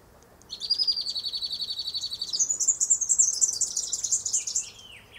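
Several birds sing and chirp near a pink nectarine tree in blossom, a bright steady warbling that rises into a busier, louder stretch of calls before easing off, with no talking.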